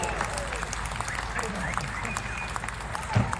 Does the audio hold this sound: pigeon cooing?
no